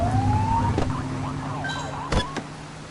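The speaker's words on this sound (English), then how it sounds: "Get behind them and blip the siren and make them pull over." A police car siren in the video game The Precinct gives a short rising electronic whoop, followed by a few warbling blips over a steady low engine hum, with a couple of sharp clicks near the end.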